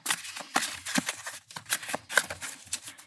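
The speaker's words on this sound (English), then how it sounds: "It's really hard to shuffle, and all the cards are sticking together" Frida tarot cards that stick together are shuffled by hand, giving a few close, uneven papery riffles and soft slaps in short bursts.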